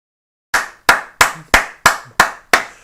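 Seven sharp, evenly spaced hand claps, close and loud, each with a quick decay, starting after a half-second of silence and with no voices.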